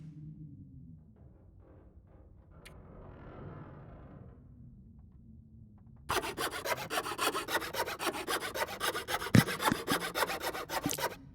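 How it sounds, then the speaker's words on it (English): A hacksaw cuts through wood. After about six seconds of quiet low rumble, fast, even back-and-forth rasping strokes start and run loud and close to the end. "I guess he's using the hacksaw from the sound of things"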